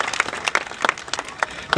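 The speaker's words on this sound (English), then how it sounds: "Huge round of applause." Audience applause at a sea lion show at Blackpool Zoo, a scattered burst of individual close claps with uneven rhythm rather than a dense roar, brief and fairly loud.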